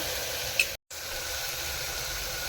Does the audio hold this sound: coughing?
no